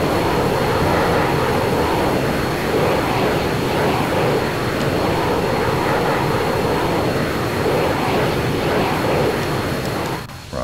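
An A-164 jet aircraft in the video game Arma 3 roars steadily and loudly for about ten seconds with a dense, continuous engine rumble and rush that drops away briefly at the very end.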